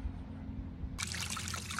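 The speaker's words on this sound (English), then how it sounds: "I know it's hard to talk over bubbling water" Water trickles and bubbles gently through the opening, then a brighter, busier bubbling splash starts abruptly about halfway in and keeps going steadily.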